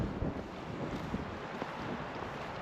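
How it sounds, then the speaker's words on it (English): Wind buffeting a microphone on a winter hike along the Great Glen Way in Scotland, a steady loud rushing roar with gusty fluctuations and no voices. "Ideally I want to be away from the wind."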